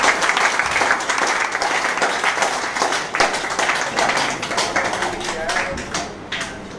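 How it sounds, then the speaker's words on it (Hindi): Loud applause from a seminar audience welcoming a guest speaker, dense clapping sustained for several seconds with voices mixed in, then gradually thinning and fading toward the end. "जोरदार तालियां"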